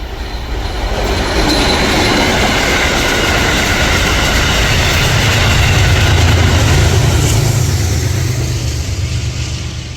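An Amtrak Empire Service passenger train led by a P42 locomotive roars past steadily for the whole stretch, heavy low engine rumble building midway, with rail clatter and a faint wheel squeal on top.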